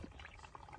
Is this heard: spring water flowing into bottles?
yes